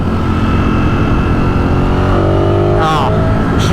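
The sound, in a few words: Ducati Streetfighter V4S motorcycle engine in fifth gear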